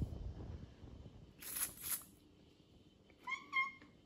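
A cat gives a couple of short, close meows near the end, after quieter rustling and a brief high squeak earlier.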